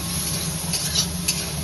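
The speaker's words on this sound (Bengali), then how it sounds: "তেলের উপর চিংড়ি মাছটা দিয়ে ভালোভাবে নেড়ে ছেড়ে নেবেন।" Shrimp sizzle in hot oil in a kadai while being stirred, a close, steady hiss with a few scraping bursts and no talking.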